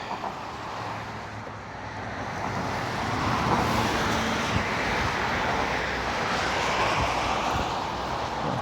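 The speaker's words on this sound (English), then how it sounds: "Hopefully you can hear me over all this traffic." Road traffic along Dukes Parkway West heard from a cyclist's position: a continuous loud roar of passing cars that swells toward the middle and stays heavy, mixed with wind rushing over the microphone.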